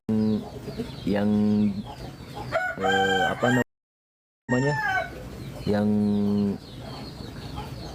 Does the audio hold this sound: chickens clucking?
yes